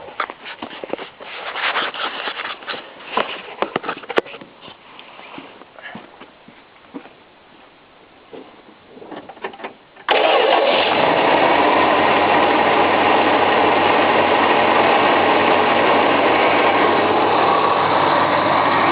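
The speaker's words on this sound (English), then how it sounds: "I can start it up for you here." A 1980s-era Dodge Aspen station wagon, cold with the automatic choke enriching the mixture, cranks and fires at about ten seconds, then settles into a loud, steady idle after quiet outdoor background noise.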